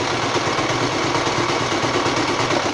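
A sewing machine stitches fabric for a homemade dust mask, giving a steady, close motor whir with a fast, even needle rhythm throughout, no talking.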